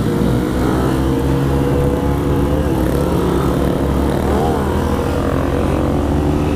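A Yamaha XJ6 motorcycle engine is held at high revs against the rev limiter, producing a loud, close, continuous buzzing drone with slight stuttering pulses, alone without talk.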